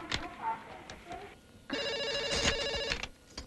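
A telephone rings in a Hindi-dubbed South Indian action film, a steady electronic trill lasting over a second after brief muffled speech and movement, fairly loud and close.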